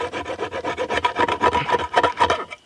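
A metal file rasps along a knife edge held at an angle, a steady run of about fifteen quick, rhythmic strokes, close and loud with no talking.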